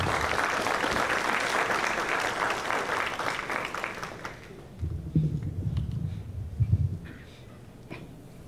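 Audience applause at a conference on creating a sports vice-ministry, full and sustained for about four seconds before thinning into scattered claps, shuffling and low murmurs.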